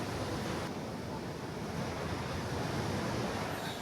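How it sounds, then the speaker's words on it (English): Strong air conditioning inside Panama City's Tocumen International Airport terminal fills the space with a steady, dense broadband rush that stays even and close throughout. "Very strong air conditioning in here too."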